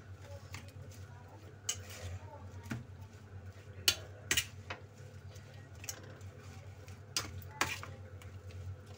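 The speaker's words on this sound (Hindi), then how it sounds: "ये मसाला डालने के बाद मैं इसको अच्छे से कर लूंगी मिक्स" Spices being stirred by hand into a homemade lemon pickle that was cured with sugar and salt; soft scrapes and light clinks come at irregular intervals over a steady low background hum.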